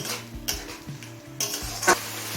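Chicken cooking in a pan with a little water, stirred over a medium flame: a soft steady sizzle broken by scraping stirs and occasional clinks of a utensil against the pan, close and fairly quiet.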